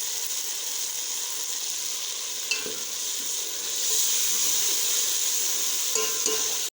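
Ginger, garlic and tomato paste fry in a pan for a chicken feet dish, making a steady close sizzle with a few light stirring scrapes, swelling slightly louder partway through.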